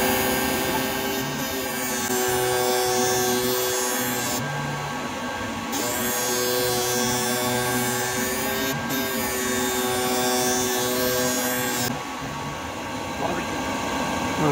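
A Sparx skate sharpener grinds a skate blade with a steady electric motor whir and wheel hum making repeated passes, moderate and close, with brief changes in tone as each pass ends.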